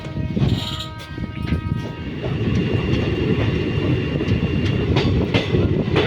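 A moving passenger train nearing Moradabad fills the space with a loud, steady low rumble and rhythmic rattling of the cars, heard from inside and continuing throughout.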